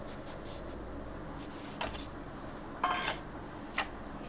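Sugar is stirred into carrot halwa in a pan, giving quiet scraping and a few sharp metallic clinks of a spoon against the pan, spaced irregularly over a soft background.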